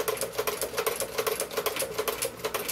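Singer 29-4 long-arm sewing machine stitching a seam, a fast, steady run of sharp mechanical clicks with a bright rattling top end, close and alone without any talk.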